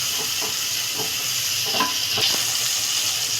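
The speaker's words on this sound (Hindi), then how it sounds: "बराबर चलाते हुए टमाटर को फ्राई करेंगे ताकि फटाफट टमाटर फ्राई हो जाए" Tomatoes sizzling in a pan while being stirred for a hing-flavoured potato curry: a steady, close hiss of frying with soft scraping strokes of a spoon every half second or so, no voices.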